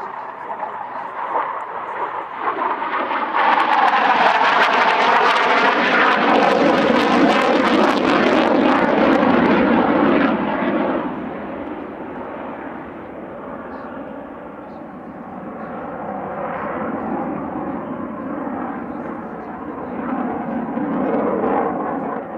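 A Swedish Air Force J-35J single-seat jet fighter displays at the Midlands Air Festival 2024 airshow, its loud roar swelling to a peak and then easing to a distant rumble while a voice narrates over it.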